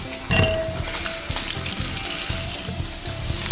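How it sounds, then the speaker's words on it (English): Shrimp sizzle in a single layer in hot oil in a pan, a steady close crackling hiss that runs throughout with a sharper burst of spatter near the start, no talking. "Okay, so let's get our shrimp in. We just want 1 layer."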